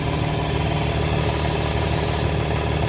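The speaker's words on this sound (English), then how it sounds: "Air up the tire." An air hose inflating a tire mounted on a tire changer, giving bursts of sharp high hissing over a steady motor hum, the first burst ending mid-clip and a second starting near the end.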